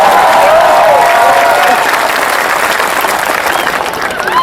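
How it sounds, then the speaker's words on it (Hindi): A loud, dense wash of audience applause fills a comedy poetry show, holding steady for a few seconds and tapering a little toward the end, with faint crowd voices mixed in. "एक बार हाथ खड़े करके तालियां बजा के बताओ कि मैं चंडीगढ़ में आया"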